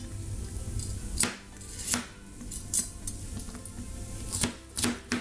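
Knife chopping deseeded chili peppers on a board for a taco side, a few irregular close sharp chops and clinks of cutlery among quieter kitchen handling.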